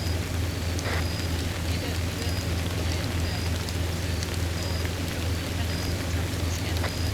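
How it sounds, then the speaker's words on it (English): Steady rain falls throughout in a video game, a dense even hiss with occasional faint clicks and a low rumble underneath. "I can hardly hear you with this rain."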